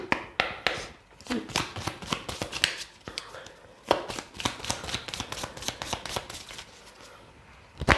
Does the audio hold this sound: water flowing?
no